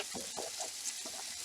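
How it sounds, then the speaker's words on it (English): Vegetables hitting hot bacon grease in a pan over medium-high heat give a soft, steady sizzle with faint crackles and a few stirring scrapes, quiet and close. "You want them to sizzle like that,"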